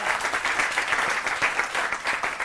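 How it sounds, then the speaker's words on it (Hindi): An audience at a New Year poetry event keeps up sustained, full applause to welcome the poets, a steady wash of many hands clapping with no talk on top. "तालियां रुकनी नहीं चाहिए"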